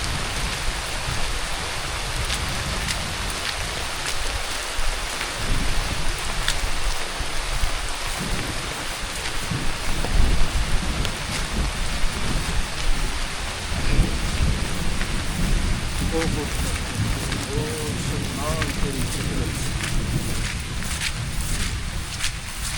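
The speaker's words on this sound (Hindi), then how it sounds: "अब बारिश भी कम हो गई है" Heavy rain pours steadily in Murree, a dense roar with rumbling thunder beneath it throughout, loud and close, with no voices over it.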